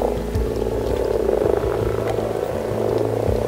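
Many frogs croaking together in a garden pond during spawning, a steady low throbbing chorus of overlapping purring calls that runs throughout at close range.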